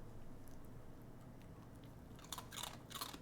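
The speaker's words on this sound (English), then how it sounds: "You gotta chew, Bing." A dog crunches a crunchy snack, a few sharp bites and chews bunched near the end after a quiet stretch, close but soft.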